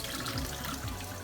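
Tap water runs steadily into a sink as peas are rinsed under it, a brief, soft splashing stream heard close up with no talking.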